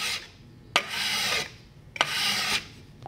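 A card scraper is rubbed over a wood block in two long, even strokes, each opening with a sharp scrape and followed by steady raspy friction, close and clear with no talk.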